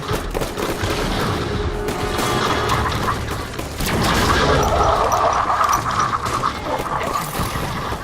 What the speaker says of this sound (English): I'm going to unload on the warden with the FRG until I run out of